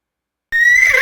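A horse on a farm lets out a single sharp whinny that starts abruptly after a half-second of silence, a bright, wavering neigh, close and loud, heard alone.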